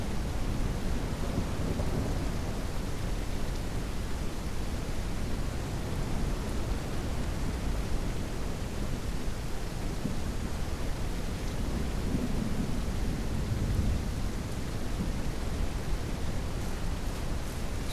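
Steady rain and rolling thunder in the ranch video game Ranch Simulator, a constant dense hiss of downpour with low rumbles swelling underneath, heard alone with no talking.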